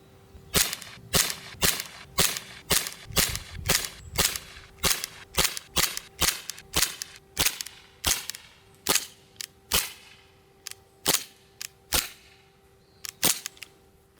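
Rapid series of sharp snapping shots from a Strike Industries Glock 17 CO2 blowback .177 BB pistol, about two dozen evenly spaced cracks with a faint steady hum underneath, the last few spaced wider as gas pressure fades.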